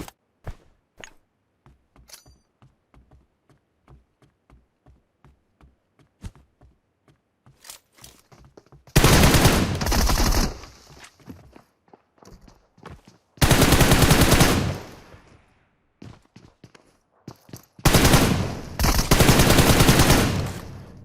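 Bursts of automatic gunfire in the PUBG Mobile battle royale game, with faint scattered distant shots and taps early on, then three long, loud sustained volleys of rapid fire.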